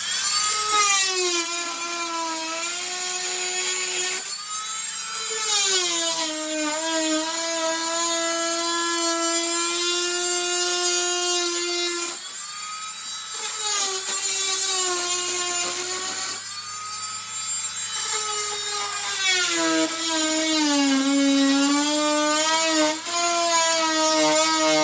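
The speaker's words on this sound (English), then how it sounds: "this saw is loud, and we're gonna go ahead and cut this edge off" A loud power saw cutting off the edge of interior window trim, holding a steady high whine with harmonic tones that dip and shift as the blade meets the wood across several long passes, with no talking.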